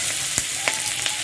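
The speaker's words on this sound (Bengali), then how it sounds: "কম করে একটু তেল দিয়ে পেঁয়াজের পাপড়িগুলোকে আমি ভেজে নিচ্ছি" Onion petals fry in a small amount of oil, giving a steady close sizzle and hiss with a few soft pops and stirring ticks through the short moment.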